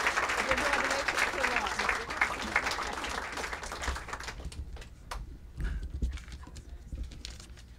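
Audience applause welcoming author Howard Norman to a reading, a dense clatter of clapping that is loud at first and then thins and fades toward the end, with a few murmured voices.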